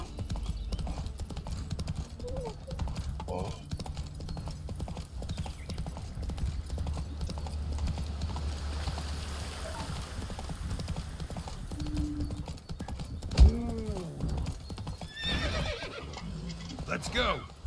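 Roach the horse galloping in The Witcher 3, with rapid rhythmic hoof clip-clops throughout, a whinny near the end, and a voice speaking briefly over it.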